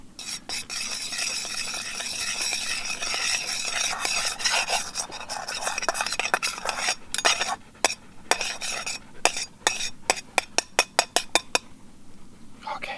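Butter sizzles and is scraped around a pan on a camp stove outdoors, a steady frying hiss broken by scraping strokes and a run of quick metallic clinks and taps near the end.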